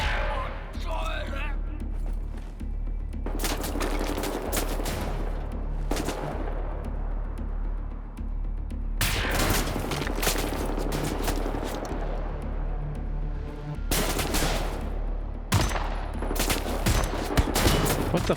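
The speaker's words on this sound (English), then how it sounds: "I shoot him in the head." Video game gunfire crackles in repeated loud bursts and rapid volleys, with people talking over the shooting.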